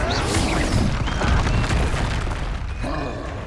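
Bombarda and Confringo spell blasts in Hogwarts Legacy, a couple of heavy booming explosions with crashing debris during combat, loud and close, followed by a fainter second blast near the end.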